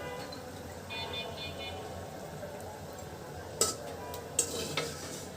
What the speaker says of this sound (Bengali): একদম ঝরঝরে মজাদার বতুয়া শাক ভাজি।